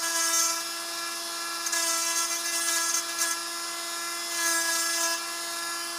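Small high-speed rotary power tool cutting a copper trace on a circuit board held in a vise, a steady close whine with strong tonal harmonics that swells slightly in bursts as it bites.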